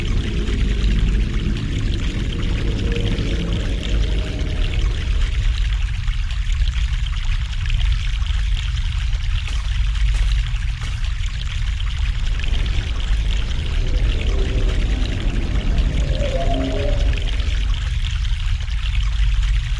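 A fresh mountain stream in The Longest Journey video game, a continuous loud rush of flowing, pouring water with gurgling swells, steady from start to finish.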